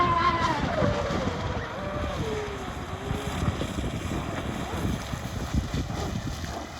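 An RC catamaran speed boat runs across a small part of a lake, its high-pitched motor whine sweeping and fading at a distance over wind and lapping water, with no voices.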